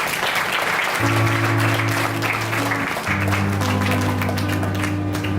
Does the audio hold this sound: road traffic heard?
no